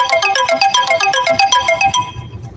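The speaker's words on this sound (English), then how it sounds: "Sorry about that. That was my alarm." A phone alarm ringtone plays a quick, bright electronic melody of rapid repeated notes, loud and close, for about two seconds before cutting off, with no voices.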